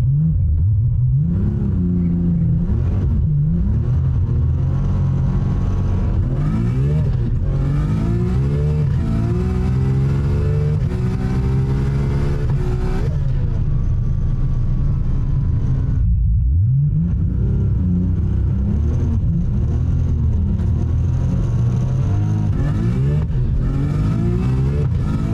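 A 1000hp RB26-powered Nissan R32 Skyline drag car revs repeatedly, then launches and accelerates hard, a loud rising engine roar climbing through gear changes, with a brief drop before revving again.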